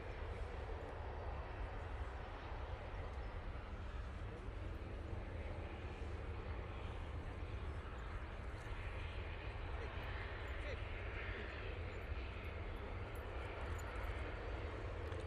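Aircraft at Manchester Airport, an easyJet arrival from Alicante, heard as a steady distant jet roar lasting throughout at low level, with a voice speaking over it.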